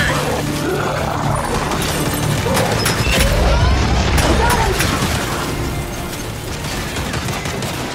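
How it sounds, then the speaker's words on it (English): Flashbang grenade blast in the video game Gears 5, a loud burst of booms and crackling gunfire-like bangs filling the scene, with a short battle din continuing at steady level afterward. "Watch it! Flashbang!"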